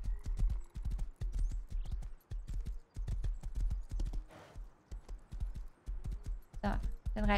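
Horse hooves clip-clopping during riding in Rust, a steady rhythmic trot of close, punchy hoof strikes with a brief whinny-like rasp, while people talk over it.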